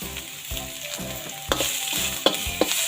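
Pork ribs and holy basil stir-fried in a pan make a loud, close sizzle broken by rhythmic scraping and clanking of the spatula about twice a second, with no talk.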